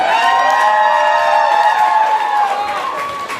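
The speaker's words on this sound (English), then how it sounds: "Please give her a round of applause." An audience at a Perth drag competition cheers and applauds a drag queen, a loud, sustained crowd roar with high whoops that stays full throughout.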